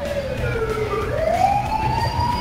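Wailing ambulance or police siren in the racing game FlatOut, a smooth rising and falling electronic tone sweeping steadily throughout, loud and continuous with faint engine rumble beneath.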